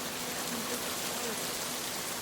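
Steady rain falls in a video game, a dense, even hiss of drops that fills the scene without pause, with no voices over it.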